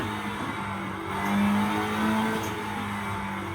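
Honda race car engine revs steadily, a sustained droning tone that swells briefly and eases back, heard up close with no talk.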